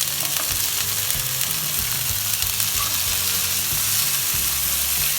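A chicken burger patty sizzles and fries on a grill, a loud continuous crackling hiss close by, with faint scraping and clicking underneath and no talk.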